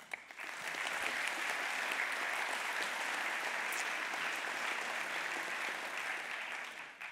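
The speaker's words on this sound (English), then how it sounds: "Merci d'applaudir tous les speakers qui sont venus." A conference audience applauds the speakers at the opening keynote of a developer event in Nantes, a steady, dense wash of clapping from a large hall that swells in quickly and holds evenly for several seconds.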